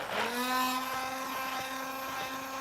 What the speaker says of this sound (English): I'm using a stem blender to emulsify.